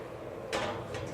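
A baking dish of elk spaghetti slides onto the middle rack of a kitchen oven, a short scraping slide followed by a lighter metallic rattle, heard up close with no talking.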